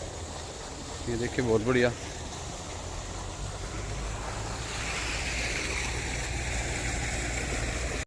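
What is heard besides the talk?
tubewell pumping water into a rice field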